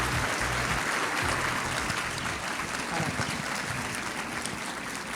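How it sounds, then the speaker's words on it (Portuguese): A packed auditorium audience applauds a speaker at a labor law congress, dense continuous clapping from a large crowd filling the room at an even, sustained level throughout. "Auditório lotado aplaude o palestrante."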